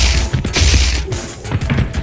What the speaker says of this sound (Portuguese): E a fúria também altera o som das porradas.